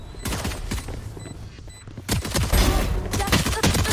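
Rapid automatic gunfire bursts from a Valorant match during an esports tournament final, dense and loud across the whole stretch, swelling heavier in the second half, with faint commentary underneath.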